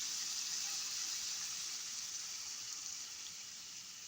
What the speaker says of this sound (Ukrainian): чорний мелений перчик і доливаємо водичку